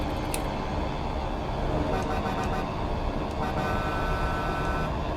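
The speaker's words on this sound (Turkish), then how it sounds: "Ses uzuyor. Kısa kesilen bir korna değil." Long, sustained horn from an old Mercedes-Benz 1113 truck in Euro Truck Simulator 2, blaring loud and unbroken over steady engine and road noise.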